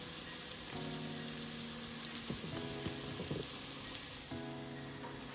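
Garlic and ginger for butter chicken sizzle and simmer in a pan, a constant soft crackle close by, with faint hums and occasional clinks.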